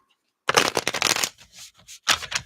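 Tarot cards are shuffled up close, a dense riffling burst lasting under a second, then a pause with light handling and a second short riffle.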